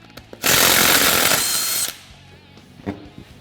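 A power tool buzzes loudly for about a second and a half while removing the rear tire of a Polaris RZR XP 1000, then cuts off, followed by quiet clinks of parts.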